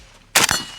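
A single sharp report from a suppressed Pioneer Arms 556 Sporter AK rifle, a loud close crack with a short ringing tail, and a second sharp onset right at the end.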